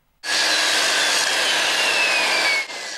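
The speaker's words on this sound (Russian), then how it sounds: "Здесь пилят, режут и стучат большую часть суток." At a house construction site in a new residential district, a loud saw cuts in one continuous, rasping stroke lasting about two seconds. It stands alone and close, then cuts off abruptly.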